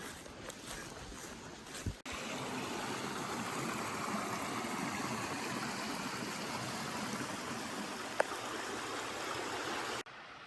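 Creek water in CMC Valley, Kananaskis, rushes in a steady, even broadband wash, faint and constant, with a single sharp click partway through.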